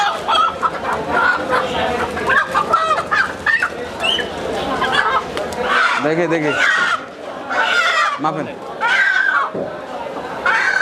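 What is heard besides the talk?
local chickens clucking at a market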